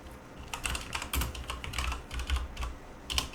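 Rapid clicking of keys on a computer keyboard, irregular bursts of close typing that run steadily throughout during a tabletop role-playing game session.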